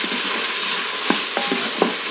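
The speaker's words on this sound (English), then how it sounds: "This is four cloves of garlic chopped. We'll stir these around." Chopped garlic and browned sausage sizzle in an Instant Pot, a constant fry hiss broken by a few light taps and scrapes of a utensil, close up and with no talk.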